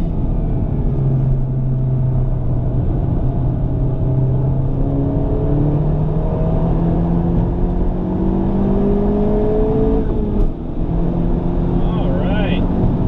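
A Honda Civic Type R engine pulls hard on a race track, a loud sustained drone whose pitch climbs steadily through the gear, with a brief dip near the end.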